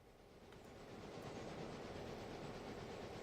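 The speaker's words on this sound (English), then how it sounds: "I can hear a steam train." A steam train in a railway simulation game, running near a station on a passenger service, rumbles past with a steady rolling clatter that swells over the first second and then holds loud and even, with no voices.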